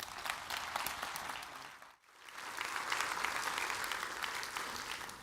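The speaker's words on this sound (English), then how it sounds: "So please give a huge round of applause to Vim Vithalis." A conference audience at a plenary session breaks into sustained applause, a dense wash of clapping that dips briefly before swelling back and continuing strongly.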